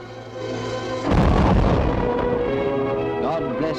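Warship guns open fire in a 1942 wartime naval film, one heavy booming blast followed by a long rolling rumble, with a voice heard faintly near the end.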